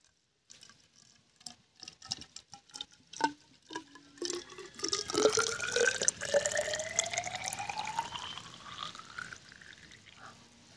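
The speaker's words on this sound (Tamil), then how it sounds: "தண்ணி ஊற்றலாம்." Water is poured into a vessel for black tea brewed with bamboo leaves and cardamom, starting with scattered drips and knocks, then a rising, continuous pour whose pitch climbs as it fills, close and fairly loud.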